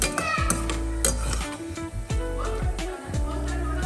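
Chopped almonds stirred and roasting in a few spoons of ghee in a pan, a steady low sizzle broken by repeated scraping strokes and light clinks of a spoon against the pan, close and without talk.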